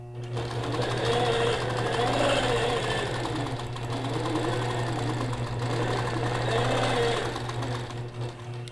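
A sewing machine stitches a quilted feather along a ruler, its motor whirring in a steady, close hum with a constant low drone and rapid needle chatter, continuous for several seconds.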